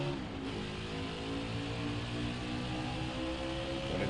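A NASCAR Xfinity race car engine at Kentucky Speedway in NASCAR Heat 5, a loud, continuous high-revving roar held steady at close range.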